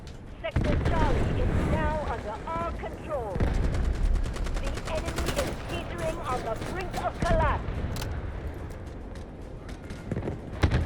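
Gunfire in the shooter game Delta Force Hawk Ops, rapid automatic bursts and single shots recurring throughout, loud and close, mixed with excited talking.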